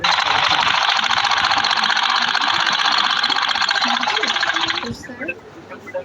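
A sewing machine stitches two folded layers of fabric held with the edges even, giving a loud, steady mechanical whir for about five seconds before it stops and quieter handling sounds follow.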